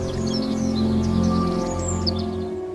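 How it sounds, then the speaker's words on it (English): Birds singing in a calm outdoor setting, several light chirps and twittering phrases scattered over a steady low background hum, fairly faint and with no voices. "The peaceful singing of birds."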